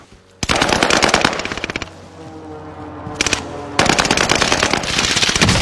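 Rapid, loud automatic gunfire in Call of Duty: Warzone, two long bursts of fast shots separated by a short lull of quieter background game sound, close and dominant.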